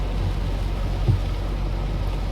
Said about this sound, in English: Almost every time I go to pick up my kids from school, it's pouring down raining.